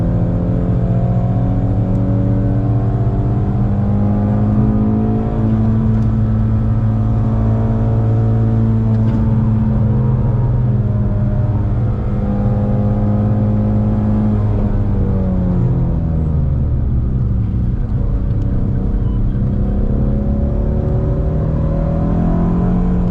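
Shelby sports car lapping a race circuit, a steady loud engine drone with gradual pitch shifts, heard close from onboard with no talking.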